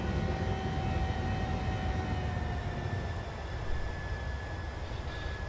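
Boeing 737-600 engines in the MSFS2020 flight simulator, throttled back to 75% after takeoff, give a steady, loud, continuous jet roar with a faint high whine, unbroken for the whole stretch.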